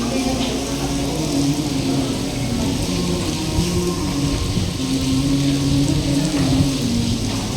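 Rain falls steadily at the Agra Red Fort, a dense, loud, continuous patter with a low hum underneath and no clear speech.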